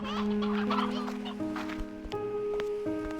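A cluster of video game chickens cluck and squawk together in a continuous, busy chorus, fairly close, with layered overlapping calls.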